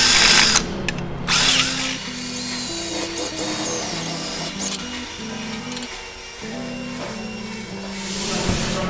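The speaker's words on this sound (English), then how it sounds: "we're gonna begin drilling this holes so the oil will drain" A power drill whines loudly and steadily, its pitch stepping up and down as it bores oil drain holes into a metal engine valve cover baffle, running almost without pause.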